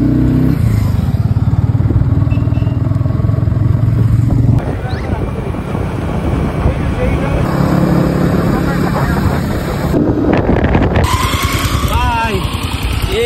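A Yamaha R15 motorcycle with its silencer removed is ridden along, its engine noise rough and continuous beneath heavy wind buffeting on the microphone.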